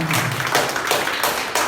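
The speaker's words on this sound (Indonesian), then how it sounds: "Tepuk tangan bagi Yesus." Congregation applause at a family blessing church service in Jakarta, a short steady burst of many hands clapping together, close and fairly loud with no voices over it.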